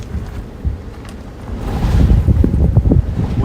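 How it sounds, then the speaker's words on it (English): Strong wind gusts during a tornado outbreak in South Dakota roar as low rumbling buffeting against the microphone, building louder and rougher partway through and staying strong to the end. "Wind is really picking up here, though."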